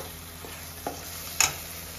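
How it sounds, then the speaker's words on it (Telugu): Masala of spices and chili powder sizzles in hot oil for a rustic mutton boti fry, a steady close hiss broken by two or three scraping clinks of a spoon against the pan, no voices. "ఒకసారి ఇట్లా మసాలా అంతా ఫ్రై అవ్వనివ్వాలి"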